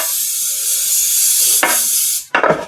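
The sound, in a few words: professional baking spray greasing a loaf pan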